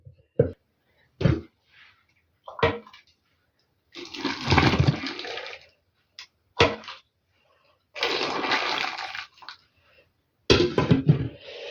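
Water poured out of glass jars of pickled cucumbers, heard as several splashing bursts of varying length separated by quiet gaps, close and fairly clear.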